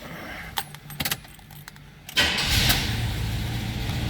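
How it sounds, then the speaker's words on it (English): A 1974 Chevrolet Monte Carlo is started: a few key jingles and clicks, then the engine cranks and catches, settling into a loud, steady idle nearby. "Go ahead and fire this up here."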